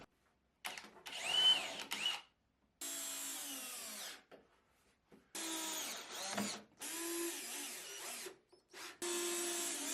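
Power drill driving 1.5-inch screws into removable closet shelves, several separate loud bursts of whirring with short pauses between them, close and with no talking.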